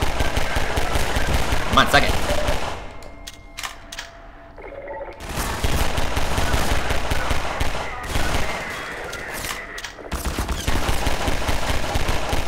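Gunfire from the Half-Life 2 chapter Water Hazard: loud, dense bursts of automatic fire rattle for several seconds, break off into quieter stretches, then resume hard twice more.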